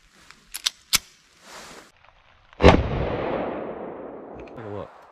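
A .380 ACP pistol is fired once into a 2x4 wooden board, a single sharp, loud outdoor crack with a long rumbling echo fading away, preceded by a few small handling clicks.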